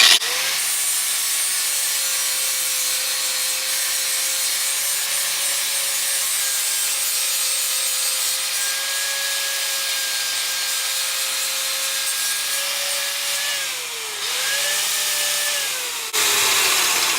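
An angle grinder with a flap disc grinds a wooden guitar headstock in one long, loud, steady run, its whine dipping briefly near the end before picking back up.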